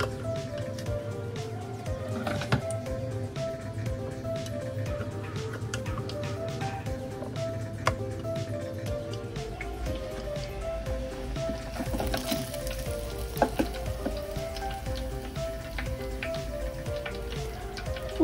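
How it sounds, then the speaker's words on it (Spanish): Rice and cheese croquettes deep-fry in a fryer heated to 375 degrees, giving a dense, continuous, rain-like crackle with faint background music underneath. "y empiezo a freír"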